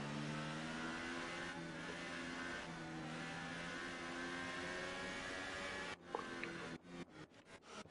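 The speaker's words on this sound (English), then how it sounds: "A lot of tyre warming going on here." Racing cars in a Formula racing video game at Bahrain, a steady loud whirring engine drone with harmonic tones, continuous for six seconds before breaking into choppy, stuttering bursts near the end.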